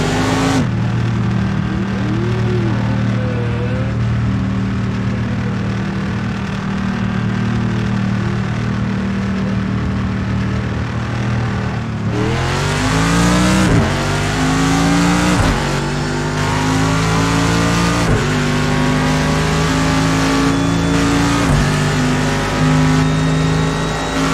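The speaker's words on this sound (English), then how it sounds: "Mind the wheel spin." A race car in Project Cars 2 on the Bathurst circuit pulls away with wheel spin, its loud, close engine droning steadily and then climbing sharply in pitch through repeated hard acceleration, with no talk over it.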